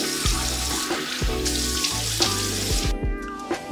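Tap water runs steadily into a sink during face washing, with splashing and intermittent handling noises close by, continuous for the whole stretch with no talking.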